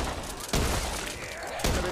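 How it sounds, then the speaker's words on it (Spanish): Two sharp bursts of gunfire in the video game Back 4 Blood punch through a dense, noisy battle mix, about a second apart. "Cuidado con los disparos de fuego, amigo."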